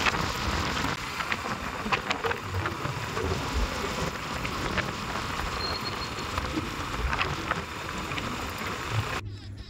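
Heavy rain falling in Saswad, a dense steady hiss of drops pattering on surfaces with low rumbles, continuous throughout and with no talk.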